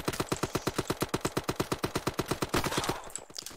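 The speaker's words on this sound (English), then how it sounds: "I'm being sniped at." Rapid automatic gunfire in the Shell Shockers shooter game, a fast even burst of about twenty-five sharp shots for over two seconds, loud and close, ending in a scrappy noisy tail.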